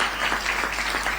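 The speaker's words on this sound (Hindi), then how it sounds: "तालियां कमजोर हैं आपकी।" Audience at a Hindi poetry recitation breaks into applause, a short burst of dense clapping held at an even level.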